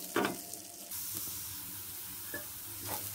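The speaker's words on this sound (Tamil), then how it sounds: "இப்போ எண்ணெய் காஞ்சிருச்சு. இதில் வெங்காயம் கருவேப்பிலை ஆட் பண்ணுறேன்." Sliced onion and curry leaves hit hot oil for egg masala Maggi noodles, a sharp sizzling burst at the start that settles into a quiet steady hiss, with a few soft stirring scrapes.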